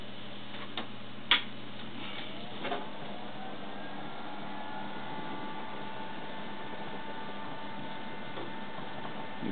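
A car alternator converted into a motor, its rotor field windings energized, runs with a steady electrical hum and faint ticking, a sharp click early on, then an even drone to the end with no talk.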